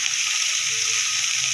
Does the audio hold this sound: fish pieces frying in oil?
yes